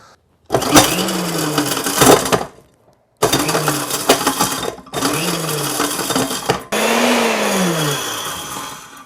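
An industrial grinder under a clamping lid pulverizing hard chaga mushroom into powder, running in four loud bursts separated by brief pauses, with rattling, crunching impacts and a motor pitch that sags under load.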